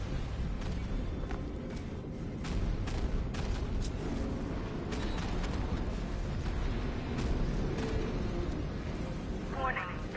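Dense, continuous rumbling explosion noise with crackling bursts from the Ace Chemicals plant blowing up in a Batman video game, loud and sustained throughout.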